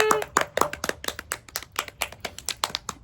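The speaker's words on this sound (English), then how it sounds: "The fact that I can clap louder." A person claps their hands in a steady, fairly loud run of sharp claps that echo slightly, with faint background sound between.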